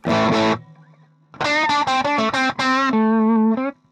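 Distorted electric guitar through an FM3 blues preset plays a short chord, then a quick run of choppy notes, with a roomy reverb tail lingering after each phrase.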